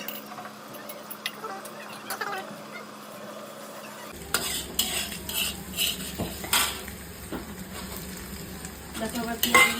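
Onion added to egg and potato frying for noodles gives a close sizzle with clinks and scrapes of a utensil against the pan, growing louder and busier after a quieter start.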